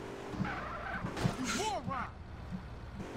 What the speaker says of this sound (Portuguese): o carro patinou do nada, eu juro